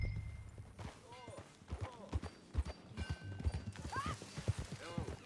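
Horse hooves clip-clop at a steady walking rhythm in Red Dead Redemption 2, close and clear, with brief snorts and game voices over them.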